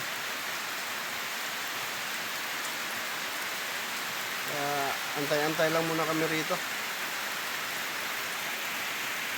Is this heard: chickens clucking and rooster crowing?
no